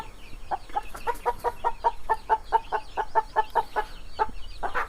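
Young Bhimavaram breed chicks cluck in a steady run of quick, evenly spaced calls, close and fairly loud, with a soft background hum and no talking.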